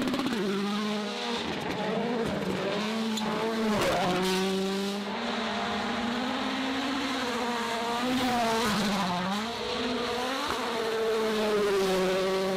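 A high-revving rally car engine whines continuously, pitch rising and falling through gear changes, loud and sustained with no voices.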